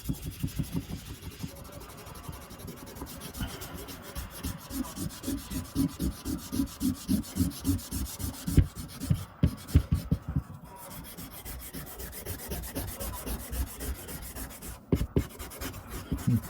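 Rust is sanded off an old machete blade in rhythmic back-and-forth strokes. The rasping rubs are close and steady, pausing briefly now and then before resuming, with no talking.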